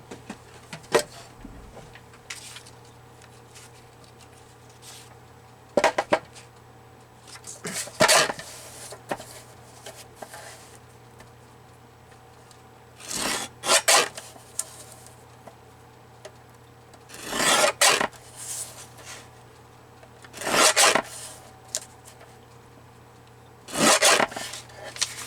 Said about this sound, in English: Let's use my other trimmer on that one.